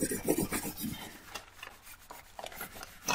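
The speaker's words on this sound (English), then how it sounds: "you really want to spend quite a bit of time burnishing into the warm wax" A spoon burnishes warm encaustic wax on a monotype adhered to a panel, giving close, quiet bursts of rhythmic rubbing and scraping strokes that come in uneven, repeated passes.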